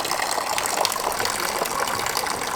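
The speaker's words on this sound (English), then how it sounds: "now he's filling it up with a bit of holy water." Holy water pours steadily into a bottle, a continuous gushing, splashing fill held close and loud from start to finish with no talking.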